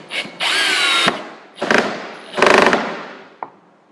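A power drill whirs close up in several bursts, starting short and then running longer and harder as speed and pressure increase, ending with a brief blip.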